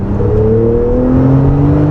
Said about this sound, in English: Now even the engine sound, and it sounds great on a 992, but better on a 991.